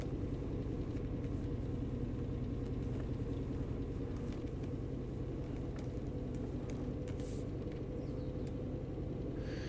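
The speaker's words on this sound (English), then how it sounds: "Sounds so strange, this truck." A steady low engine rumble drones throughout, loud and unbroken, like a heavy truck running at constant revs with faint clicks above, from the PC game On The Road Truck Simulator.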